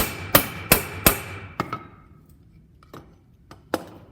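Hammer blows on a rivet while relining CCKW army truck brake pads: three loud, evenly spaced metallic strikes, then a few lighter taps spread out with quiet gaps between them.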